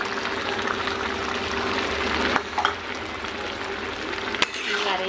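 Fried fish pieces tipped into a simmering green taro stem curry in an Assamese home kitchen, setting off a steady, loud frying sizzle with a brief stir partway through.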